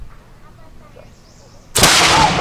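A cannon fires once during a historical reenactment demonstration of the Storming of Stony Point, a sudden loud boom that cuts through the quiet outdoor air after a brief pause and rolls on with a lingering roar.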